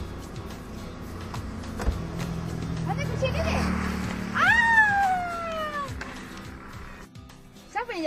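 A cat gives one clear, drawn-out meow at close range, rising then falling, amid background talk and some passing traffic noise.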